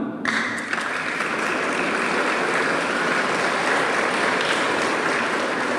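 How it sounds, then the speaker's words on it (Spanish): A church congregation at a Sunday homily applauds together, a loud, dense burst of clapping that starts abruptly and holds steady for several seconds with no talking over it. "Un aplauso a la hermana."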